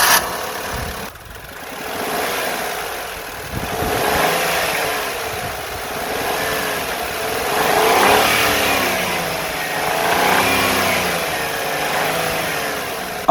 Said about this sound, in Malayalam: എയർ ഫിൽട്ടർ ഇല്ലാതെ നമ്മുടെ വാഹനം സ്റ്റാർട്ട് ചെയ്ത് കഴിഞ്ഞപ്പോൾ വാഹനത്തിൻ്റെ സൗണ്ടിൽ ചെറിയൊരു വ്യത്യാസം വന്നിട്ടുണ്ട്